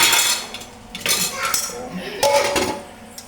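A pot of rice is set into a rice cooker with a few close metallic clanks and clinks, in quick irregular bursts.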